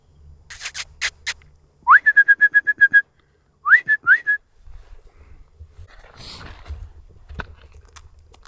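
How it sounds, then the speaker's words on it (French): A small bird calls near the summit of Mount Olympus in Turkey, giving loud clear repeated whistled notes in two quick rising series, followed by faint rustling and breezy background noise. "Ah là, l'oiseau, je te jure, il est perdu."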